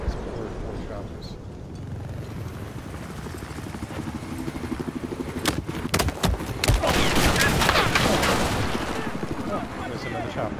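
Helicopter rotor drone and bursts of gunfire from Battlefield 4 on Golmud Railway, a muffled rotor hum swelling into sharp rapid shots and a louder chopper pass near the end.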